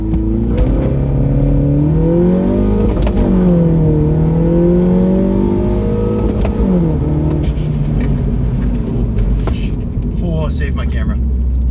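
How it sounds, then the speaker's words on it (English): A Mini Cooper engine revs hard through an acceleration run, its tone climbing and dropping between gear changes, loud and close inside the car, with voices talking over it. "I got 2 spots right here that I can do a quick 0 to 60"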